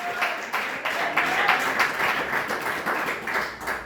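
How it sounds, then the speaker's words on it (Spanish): Congregation applauding during a Spanish-language church service, a steady wash of many hands clapping, fairly loud and continuous throughout with faint voices mixed in. "Dale un fuerte aplauso al que vive, al que reina."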